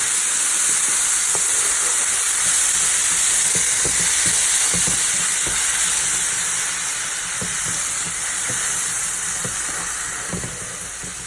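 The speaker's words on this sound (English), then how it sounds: "once you want to hear that little sizzle, so that's kind of gonna give the rice the flavor." Tomato mix sizzling as it is poured over browned rice in a pot while making Mexican rice, a steady close frying hiss with scattered crackles and pops that runs alone throughout.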